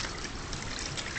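Water trickling and flowing during a wet training session, a steady close hiss of running water throughout, with no talk.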